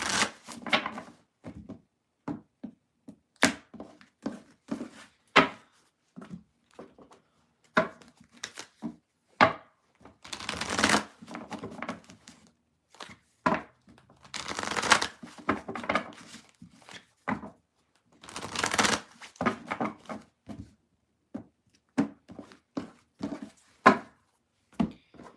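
Tarot cards being shuffled by hand: a long run of crisp, dry riffling and tapping clicks in uneven bursts, with a few louder, denser flurries of card noise. No voices.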